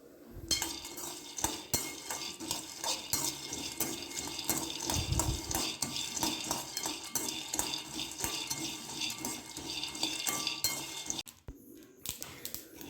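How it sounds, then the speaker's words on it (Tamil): Raw peanuts dry roasting in a pan, with steady rattling and scraping as they are stirred and shaken, plus occasional clinks of utensil on metal, fairly close and continuous, with no one speaking. "பச்சை வேர்க்கடலை எடுத்துருக்கேன். அதனால் நல்லா வறுத்து எடுத்துக்கலாம்."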